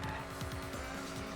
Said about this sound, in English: Ooh, we got other cars now.